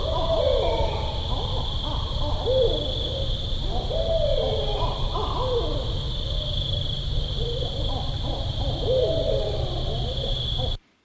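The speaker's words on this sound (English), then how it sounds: "I know I don't have any owl sound effects." An owl hoot sound effect repeats in a series of hollow hoots over a constant background hum and tone, running continuously before cutting off abruptly at the end.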